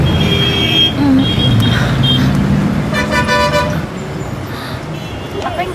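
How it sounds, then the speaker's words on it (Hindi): Busy city road traffic with car horns tooting repeatedly over a steady engine rumble, several short honks close by and others further off, with faint voices in the background. "ट्रैफिक।"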